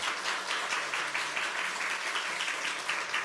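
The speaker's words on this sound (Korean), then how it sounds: "박수로 환영해 주시기를 바랍니다" A church congregation at a Sunday service gives soft, even applause of moderate density, heard from a distance and fairly faint.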